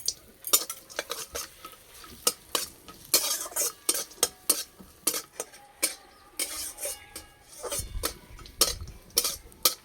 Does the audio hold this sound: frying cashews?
yes